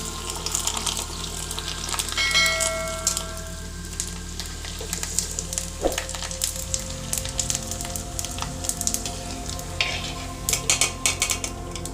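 Wheat flour papad frying in hot oil in a home kitchen, a steady soft sizzle and bubbling with scattered crackles and clinks of a utensil, no talking.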